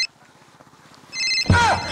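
A telephone rings in an Odia comedy sketch, starting with a faint tone, then a louder electronic ring that swells near the end amid a sudden burst of noise, with no talking.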